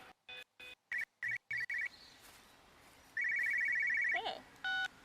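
A telephone ringing in the video game Everybody's Gone To The Rapture: a series of short electronic ring bursts, then a longer warbling ring and a final brief tone, over a low ambient hum.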